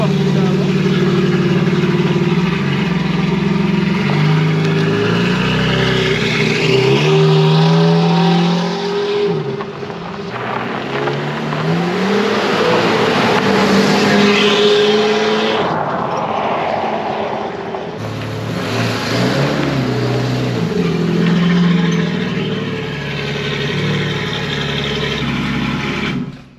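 A car engine runs close and loud throughout, revving up and down with rising and falling pitch, easing off at times before climbing again, with voices talking over it.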